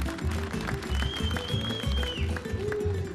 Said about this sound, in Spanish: ¡Sigan los aplausos!